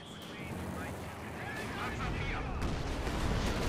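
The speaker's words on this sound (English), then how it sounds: "MG42 firing on as well" Gunfire and artillery from Company of Heroes 2, with an MG42 machine gun firing and a Pershing tank in a 1v1 battle, rumbling steadily with crackling shots and booms throughout, under talk.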